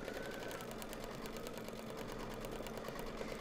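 An embroidery machine stitching the nose and mouth onto an in-the-hoop dog softie in black thread, a quiet, fast and steady mechanical whir with rapid needle ticks, running alone.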